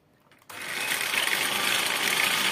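An electric mixer whisks three egg whites for a strawberry-raspberry matcha Valentine's heart cake, starting abruptly after a brief quiet moment and then running as a steady, loud, continuous high whir.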